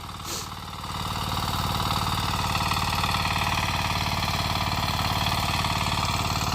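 A Kama 9 hp diesel power weeder, a small walk-behind tractor used for tilling hard soil, runs steadily and loudly up close with a deep, even chugging that holds throughout after a brief start.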